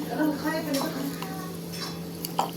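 Mayonnaise, butter, oregano and chili flakes stirred together for cheesy garlic bread, giving soft scraping and clinking of a spoon against a bowl under a constant low hum, with faint speech.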